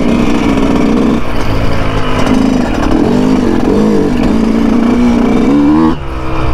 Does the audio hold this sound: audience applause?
no